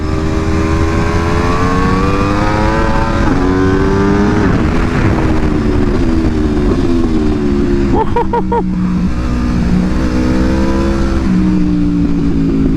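Aprilia RSV4 sport motorcycle fitted with a Spark titanium full exhaust, ridden on a twisty road, revs and accelerates loudly and up close, its engine note rising through gear changes with a brief crackle midway.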